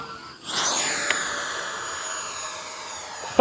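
An FMS Avanti S V3 70mm electric ducted-fan RC jet passes by in flight, a whooshing whine that rises quickly, then slowly fades and drifts lower in pitch, moderately distant, ending in a short knock.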